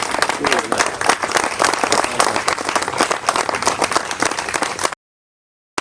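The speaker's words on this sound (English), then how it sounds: "So you deserve a round of applause" Audience applause at an artifact showcase event honoring a speaker, many hands clapping in a dense, steady patter with some crowd murmur, filling the room for about five seconds before cutting to silence.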